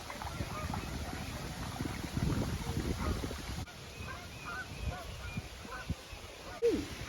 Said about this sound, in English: Ducks crossing!